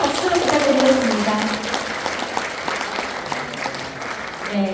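An audience at a Seogwipo Cultural Center lecture event gives a warm round of applause for a soprano and a tenor, steady crowd clapping with a voice heard over the opening moments.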